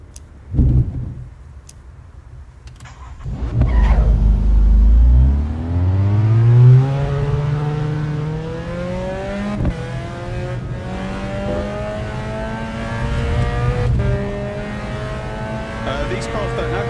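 A race car in Assetto Corsa EVO starts up and revs hard, engine note sweeping upward through rising gears and holding a loud, steady drone, with a sharp click early on and someone talking intermittently over it.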